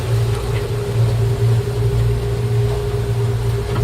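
Twin Honda outboard engines drone steadily at cruising revs on a Sailfish boat, a loud continuous low hum with a constant tone and no talk.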